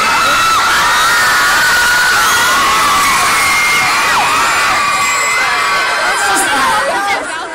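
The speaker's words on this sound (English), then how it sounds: "they're just screaming and yelling?" A large crowd at a shopping mall screams and yells continuously during a Hunger Games promotional event in Seattle, a loud, dense wall of high-pitched shrieks and cheers with no breaks.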